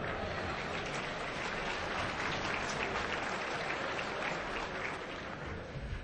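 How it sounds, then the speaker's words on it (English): Steady, dense applause from a large audience at a hacking conference talk, loud and sustained for the whole stretch without letting up. "Give yourself a round of applause"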